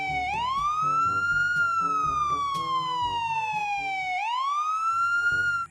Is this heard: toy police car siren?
yes